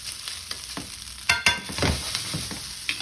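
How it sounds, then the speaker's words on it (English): Wiener Schnitzel fries in a pan, a steady bright sizzle of hot oil with occasional louder crackles and spatters, heard close and without talk. "I switched my pans around so you can see me fry at least the first batch of Wiener Schnitzel"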